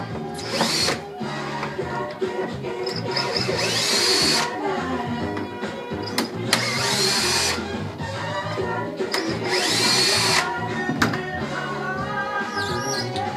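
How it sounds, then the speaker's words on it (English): A power drill backs screws out of a wooden router template in a workshop, whining in four separate short bursts with quieter handling noises between them. "Take my screws out."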